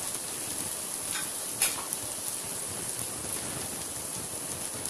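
Cabbage, peas, carrot, beans, sweet corn and capsicum stir-fry on high flame for hakka noodles, producing a continuous, even, hissing sizzle at moderate loudness.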